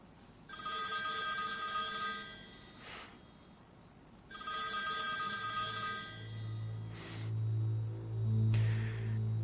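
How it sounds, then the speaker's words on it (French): A telephone rings in two long bursts of bright trilling bell tone separated by a pause, followed by a low electronic hum and fainter tones, loud and close with no talking. "Mon téléphone sonne."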